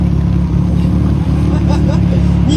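Tuned Nissan Silvia engine with a 2.1-litre build and forged pistons, held at high revs near 8000 rpm at a loud exhaust contest, a dense steady roar close by, with voices talking over it.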